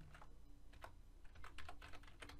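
Fingers type TypeScript code on a computer keyboard, a quick irregular run of soft clicking keystrokes, close but quiet, with no speech over it.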